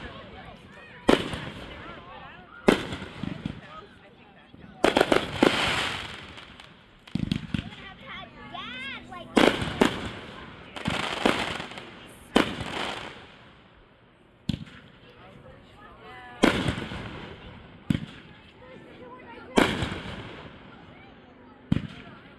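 Fireworks at a Wilson firework show, sharp booms and crackling bursts going off at irregular intervals a second or two apart, some near and loud, some fainter, with people talking in between.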